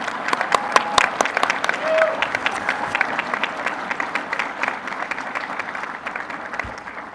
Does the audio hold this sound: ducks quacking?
no